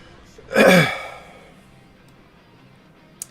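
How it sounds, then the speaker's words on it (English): A single harsh cough from a sick man bursts out close to the mic, then trails off into quiet room tone, with a faint click near the end. "I'm sorry if I'm like coughing and stuff a bunch."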